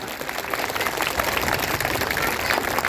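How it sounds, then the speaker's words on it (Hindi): A crowd at a political rally in Delhi bursts into applause, a dense, sustained wash of many hands clapping together, fairly loud and steady throughout the short burst. "जोरदार ताली बजाइए।"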